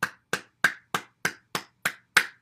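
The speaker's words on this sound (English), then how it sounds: "Let's clap our hands." Eight slow, evenly spaced hand claps, close and crisp, each a sharp isolated smack with silence between, during a morning exercise session.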